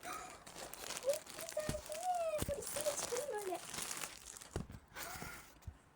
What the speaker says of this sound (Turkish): Yine de biz yırtmadan düzgünce açalım.